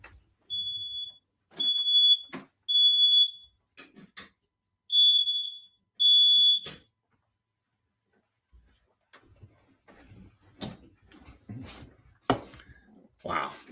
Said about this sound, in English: Our smoke alarm is going off.